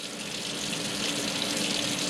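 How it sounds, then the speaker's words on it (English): Water pours steadily into lab glassware to rinse aspirin crystals, a continuous close splashing gush with no pauses and no voices. "I'm going to add a little more water"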